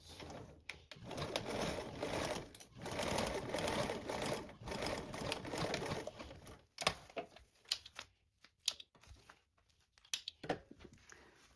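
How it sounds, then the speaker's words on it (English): A sewing machine stitches a seam in long runs of rapid, even needle clatter, pausing between bursts, then breaks into shorter stop-start stitches and handling clicks toward the end, close and moderately loud. "Now we're going to sew these together with a 3/8 seam allowance."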